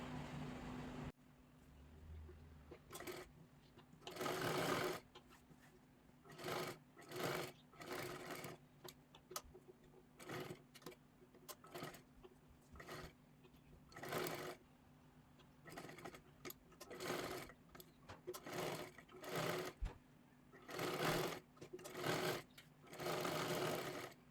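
A sewing machine stitches a blouse with a feather-pattern border in repeated short runs, close and clear, with brief pauses and faint handling noise between bursts and no talk.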